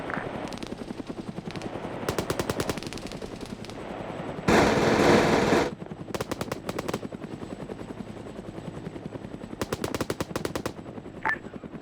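A Huey helicopter fires its guns in a video game: long rapid bursts of machine-gun fire come repeatedly over a steady rotor thrum, with one loud dense burst in the middle.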